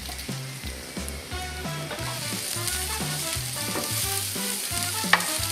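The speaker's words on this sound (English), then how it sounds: "So we want to saute the garlic," Garlic and string beans sauté in a pan as they are stirred, giving a continuous sizzle, while tonal background music plays over the cooking sounds.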